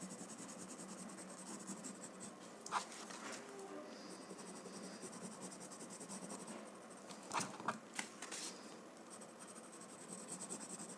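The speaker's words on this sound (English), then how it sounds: "So I'm going to pick up my pencil and add some graphite around this write up" A graphite pencil shades on paper in soft scratchy strokes, faint and close, with brief louder rubbing bursts between quieter stretches and no talk.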